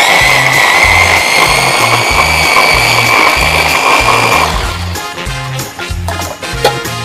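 A blender whirs loudly as it blitzes green chili, oregano, salt, sugar and olive oil, a steady close-up roar that changes pitch and grows rougher partway through.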